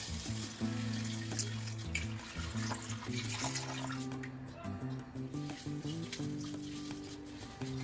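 Water runs over whole masoor lentils in a strainer, a faint, continuous splashing and trickling heard under steady background music.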